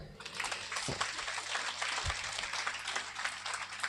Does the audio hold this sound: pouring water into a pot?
no